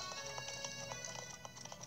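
A horse's hooves clip-clop steadily in The Legend of Zelda: Breath of the Wild, a regular trotting rhythm over a sustained tonal game backdrop, fairly close and continuous.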